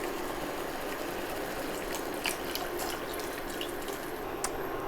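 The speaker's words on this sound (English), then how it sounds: "So I'm supposed to add the water, add some of the water" Water is poured into a thickening sauce in a pot, a steady close splashing and trickling with a few brighter drips over a continuous wash, no talking.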